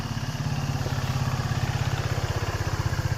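KTM dirt bike engine running at a fast, even, throbbing idle-like pulse during basic wheelie practice, close and steady with a faint mechanical clatter and no speech.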